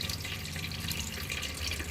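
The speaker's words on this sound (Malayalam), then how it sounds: "നൂഡിൽസ് അരിപ്പയിലേക്ക് കോരി വച്ചിട്ട് കുറച്ച് തണുത്ത വെള്ളം ഇതിലേക്ക് ഒഴിക്കണം" Cold water pours over cooked noodles in a kitchen strainer, a steady hissing splash of running water that stays constant and fairly faint, close by with no talking.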